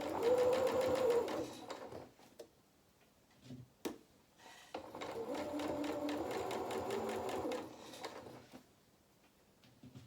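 A sewing machine stitches fabric for a stuffed cat's body in two runs of steady whirring, with a few sharp clicks and handling noises in the pause between them.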